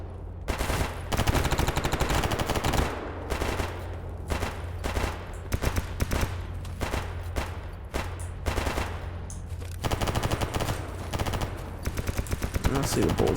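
Gunfire from the video game Escape From Pripyat rattles in dense bursts of machine-gun and rifle shots, loud and close, with brief pauses between volleys and repeated rapid strings of fire.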